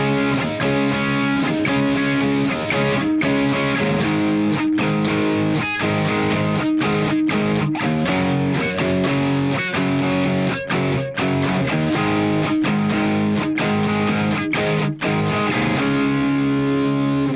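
Distorted electric guitar plays a slow power-chord rhythm from Good Charlotte's "The Anthem," palm-muted chugs punctuated by sharp strummed accents, loud, close and continuous with no voice over it.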